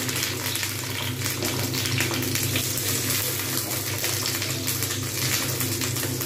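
Eggplants frying in hot oil, with a steady, loud, close sizzle and spattering that runs unbroken throughout.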